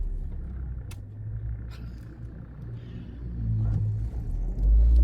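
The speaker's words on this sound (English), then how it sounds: "here comes the truck" A truck rolls up outside a post office, its low engine rumble growing steadily louder and closer toward the end, with no talking over it.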